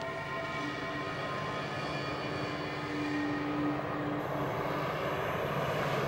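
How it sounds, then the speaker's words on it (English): An airplane passes overhead as a steady, broad engine drone with a faint tonal whine, holding level for several seconds and swelling slightly louder midway, with no voices. "It's a plane."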